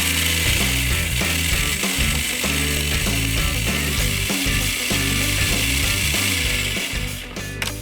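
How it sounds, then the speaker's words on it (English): Blender whirring as it blends fresh dill with kosher salt, a loud, continuous rattling grind with chopping and knocking texture that winds down at the end. "We're gonna just blend this all together."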